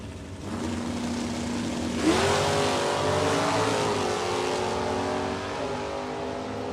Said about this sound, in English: Marine Corps Corporal Gibson, right lane, ready to go in the 74 Dodge Sport.